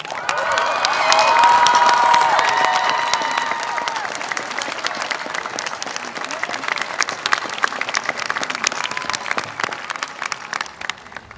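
Graduating students at a 2019 commencement ceremony applaud and cheer for a teaching award recipient, a loud burst of clapping and shouts from a large crowd that swells early and then gradually thins into scattered claps.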